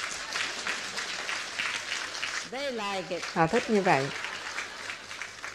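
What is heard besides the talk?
applause from onlookers after a refuelling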